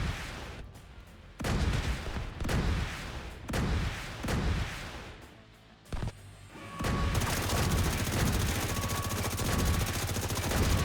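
Missile turrets firing in The Division 2, a series of heavy booming launches and explosions in uneven bursts, then a dense, continuous barrage of rapid fire and blasts close and loud.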